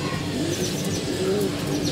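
Pigeons coo softly in a loft on a hot day, low murmuring calls rising and falling over a steady background hum, with faint chirps mixed in and no talking.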